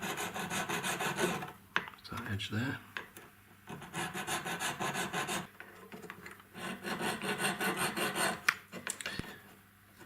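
Needle file rasping against a metal huggie earring with a safety edge, steady rhythmic strokes in bursts with short pauses, close and clear; a brief spoken remark occurs once.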